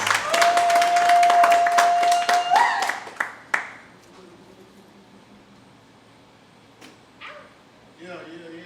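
A crowd at a live performance claps and cheers loudly for several seconds, with a sustained whistle in the mix. The applause then breaks off into scattered claps and quiet murmuring.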